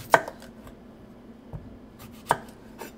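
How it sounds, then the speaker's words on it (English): A knife chops apples into big rough pieces on a cutting board, making a few sparse, close thuds spread over a quiet background. "I also have to pre-chop the apples, which shouldn't take very long"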